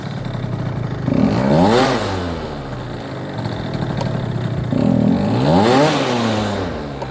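Scooter engine with a lean pilot jet revving twice, each rev hesitating and bogging at the low end before climbing to a loud whine, then dropping back, close by with no talk.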